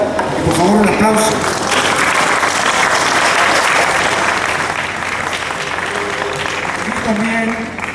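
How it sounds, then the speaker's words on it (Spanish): Audience at a book presentation on 1968 breaks into sustained applause, dense and even for several seconds, with a voice briefly audible at the start. "por favor un aplauso"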